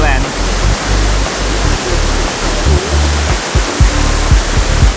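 A jungle waterfall in Chiang Mai, Thailand pours with a loud, close, continuous roar, with low buffeting gusts pulsing unevenly beneath it.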